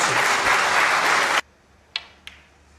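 A snooker crowd applauds in a dense burst for just over a second, then the clapping stops abruptly, leaving a hushed arena and two faint knocks.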